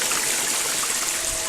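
Water driven by a 1000 GPH pump pours steadily over a gold hog mat used for sluicing black sand, a constant close rushing and trickling with no pauses and no talking.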